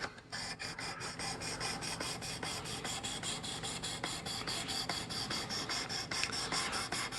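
A knife blade rasps against a ceramic rod on a Work Sharp Precision Adjust sharpener, with quick, repeated scraping strokes in a steady rhythm, close and alone.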